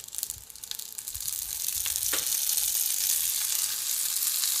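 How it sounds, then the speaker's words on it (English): Sesame oil and sweet chili paste hitting noodles in a hot pan, a steady bright sizzle that swells after the first second and holds, close and alone. "I'm going to put a little bit more of that sesame oil and sweet chili paste right into the noodles"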